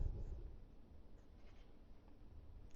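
Marker or chalk writing on a board during a maths lesson on matrices, a soft continuous scratching and rubbing that is fairly quiet and steady, with no voice over it.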